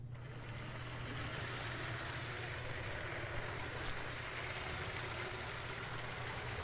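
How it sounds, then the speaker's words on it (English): A small motor in a LEGO train set 4563 alternate build whirs steadily, close by, with a constant low hum and a mechanical buzz that runs the whole time. "Come on, little motor, you can do it."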